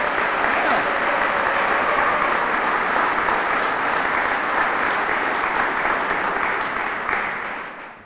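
An indoor audience applauds for Bismarck State College at an event in North Dakota. The clapping is loud and sustained and stays steady for about eight seconds before fading out.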